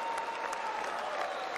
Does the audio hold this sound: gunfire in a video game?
no